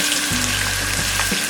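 Chopped green chillies, sliced onion and spring onion greens fry over medium-high flame for street-style soya chunk fried rice, a steady close hiss and sizzle with no talk over it.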